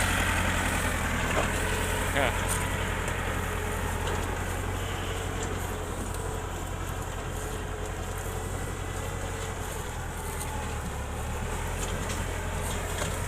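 A tractor engine runs steadily at a low idle-like rumble, fairly quiet and constant throughout with faint background noise.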